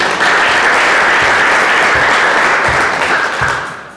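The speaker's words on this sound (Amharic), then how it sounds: "አጨብጭቡ ለጌታ" A church congregation claps in praise to the Lord, a loud, dense wash of applause sustained for a few seconds before easing off at the end.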